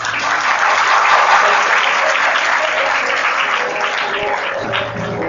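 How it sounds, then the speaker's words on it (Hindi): Loud, sustained crowd applause at a Bhagavat Katha gathering in a Hanuman temple park in Faridabad, a dense continuous roar of clapping from a large audience that stays even throughout. "अपने लिए ही ताली बजा दो।"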